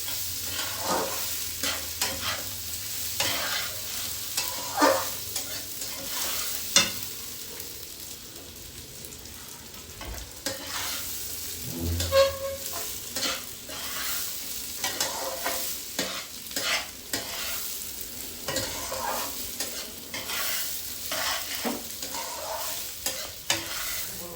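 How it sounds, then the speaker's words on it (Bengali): Rice fries in a pan with a constant crackling sizzle while a spoon stirs and scrapes it in frequent close strokes, and no one speaks. "ভালো করে ভেজে নেব চালটাকে"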